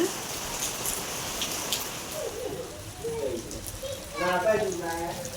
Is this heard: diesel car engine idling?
no